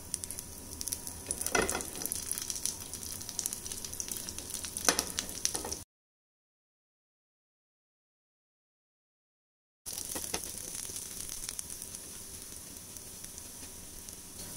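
Potato snack pieces frying in ghee in a pan, sizzling in a steady crackling hiss that drops to silence for a few seconds, then resumes at the same level.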